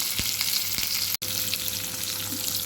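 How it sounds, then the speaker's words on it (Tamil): Mustard seeds, urad dal, onion, ginger and curry leaves tempering in sesame oil and ghee, a dense steady sizzle with a few crackling pops, close and continuous apart from one brief cut. "நல்லெண்ணெயும் நெய்யும் கொஞ்சம் ஊற்றி அதில் கடுகு, உளுந்தம்பருப்பு, வெங்காயம், இஞ்சி, கருவேப்பிலை இது மட்டும் சேர்த்துருக்கேன்"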